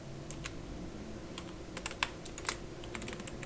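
Keys clacking on a computer keyboard while code is entered, a quiet steady patter of scattered keystrokes with a few sharper taps over a low background hum.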